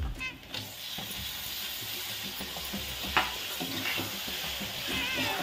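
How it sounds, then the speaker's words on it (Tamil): Tomatoes sizzle and fry in hot oil with masala and chili powder in a home kitchen, a steady close crackling hiss with occasional clinks and scrapes of stirring, no talking. "இந்த தக்காளியை தூக்கி கொட்டிக்கலாம்"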